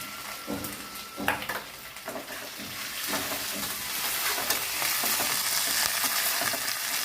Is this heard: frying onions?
yes